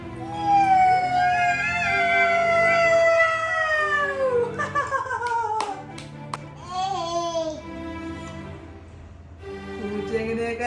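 A human voice imitates a cat, drawing out long wavering meows one after another, loud and close, with brief pauses between the cries.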